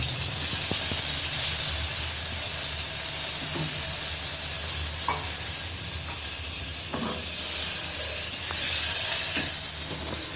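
Butter sizzling in a hot pan of oil while cooking vegetable pulao, a constant bright hiss and crackle that holds steady throughout with a few faint clicks of utensils.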